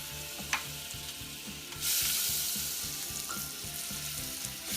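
Butter sizzles in a saucepan while éclair dough is being made, the frying hiss swelling suddenly partway through and holding steady over quiet background music.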